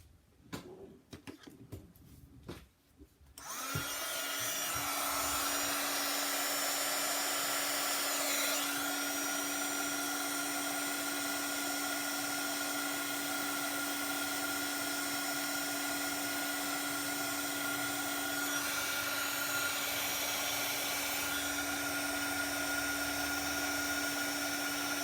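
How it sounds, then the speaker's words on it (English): After a few faint taps, a heat tool starts and blows hot air steadily from the underside of a piece holding embossing powder, giving a loud, constant whirring hiss with a fixed hum that lasts to the end. "I have a trick for you. That is to heat it from the underside."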